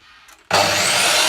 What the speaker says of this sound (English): which is deburring.